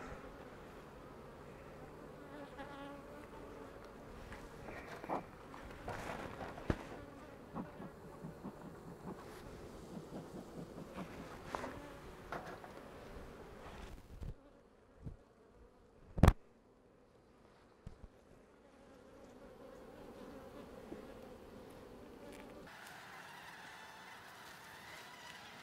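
Honey bees hum around a hive being split, the buzzing filling the air continuously with passing individual bees close to the microphone, a few sharp knocks and a quieter stretch near the end.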